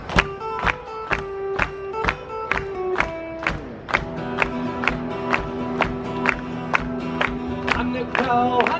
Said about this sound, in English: Clap along with me again on this one.